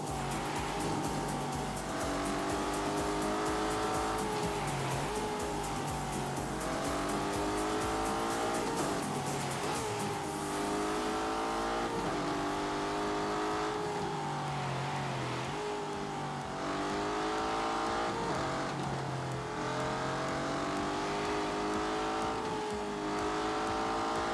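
A car engine in The Grand Tour Game, driven in snow mode, revs up and down repeatedly with loud droning harmonics and intermittent tire squeal and skidding. It stays close and continuous for the whole stretch.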